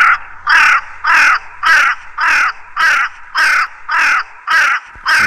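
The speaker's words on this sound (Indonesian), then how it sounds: "Suara gagak di antara pepohonan sekitar sungai." Crows cawing among trees near a river, a series of about ten loud, harsh caws in steady rhythm, close and alone.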